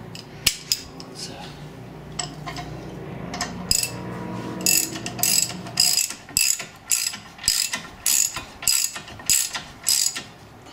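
Ratchet wrench on the front brake caliper bolts of a 2011 Cadillac SRX, starting as faint clicking and then settling into a steady run of loud, sharp ratchet bursts, close up, with no talk.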